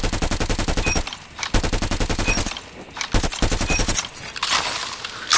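Automatic gunfire from a gun in COD Mobile, rapid rhythmic bursts of shots separated by short pauses, loud and close with no talk.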